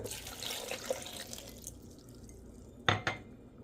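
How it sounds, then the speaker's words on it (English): Water runs briefly into a glass for a strawberry kefir drink. A soft continuous trickle is followed by a quiet lull and two sharp clinks near the end. "I am adding 1 glass of water"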